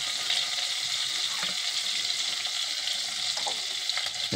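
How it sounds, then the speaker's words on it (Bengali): Garam masala sizzling in melted ghee makes a loud, dense hiss of frying that runs without pause, with a few brief crackles and no voices. "এই গরম মশলা পড়লো, ঘিটা একটু গলিয়ে দিলাম।"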